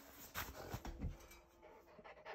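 A Bernese Mountain Dog pants in quick, close breaths, with a few soft whimpers mixed in.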